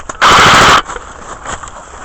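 Airsoft gun fires a rapid full-auto burst during an indoor close-quarters game, a loud half-second rattle followed by quieter ambient shuffling.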